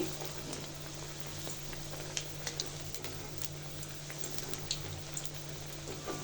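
Egg and onion chops shallow-frying in hot oil over medium heat, a steady close crackling sizzle with scattered sharper pops, no voices.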